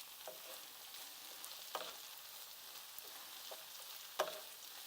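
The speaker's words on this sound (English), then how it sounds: "We're going to let them saute also." Peppers and thyme sauté quietly in a pan, a faint steady sizzle broken by a few soft scrapes and clicks of stirring.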